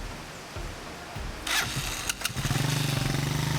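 A motorcycle engine cranks and catches, then settles into a steady, throbbing idle, close by and moderately loud.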